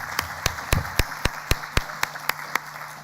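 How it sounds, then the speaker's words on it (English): An audience at an economics panel discussion applauds the panelists, with sharp, regular claps standing out over a light bed of scattered clapping, steady and moderately loud throughout, no voices over it. "please join me in giving a round of applause to our panelists"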